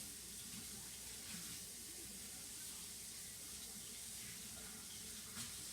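Hot water runs from a tap into a sink with a steady, broad hiss and splash that continues evenly throughout, at moderate level, with no talking.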